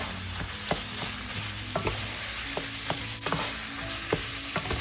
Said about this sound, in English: Okay, saute that stuff.